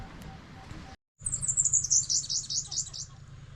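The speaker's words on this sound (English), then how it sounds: "Look at these beautiful little birds everywhere." Small birds chirp and tweet outdoors at Memory Cove in Australia, a scatter of high, fairly close calls that start after a brief silence and continue over a low background rumble.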